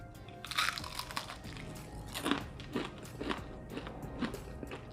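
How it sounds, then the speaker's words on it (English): Bites into crunchy fried chicken, a few sharp crisp crunches followed by softer chewing, close and fairly quiet with no talking. "I wanted you guys to hear the crunch of this chicken."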